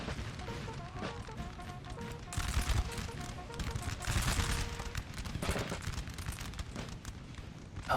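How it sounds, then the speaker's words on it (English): Artillery firing during a 3v3 Napoleon: Total War battle, booming volleys and crackling musketry rolling over a dense battlefield roar, with a voice talking over the din. "Howitzers, I'm assuming. No, just artillery."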